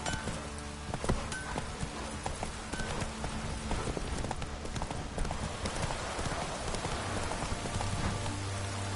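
Roach the horse gallops in The Witcher 3, with rapid, uneven hoofbeats pounding over steady falling rain for several seconds, fairly close, with no voices.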